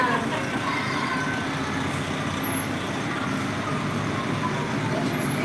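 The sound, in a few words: volunteer fire department trucks driving in a parade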